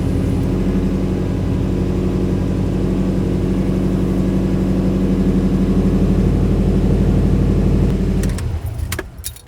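A 2017 Subaru STI engine idles steadily, a loud, even low rumble up close, then shuts off near the end with a few rattles and clicks.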